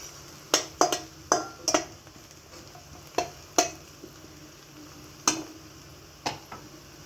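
Garlic and onions sautéing in a pan for a Filipino vegetable dish, a soft background sizzle broken by sharp scraping and clinking of a utensil stirring against the pan at irregular intervals.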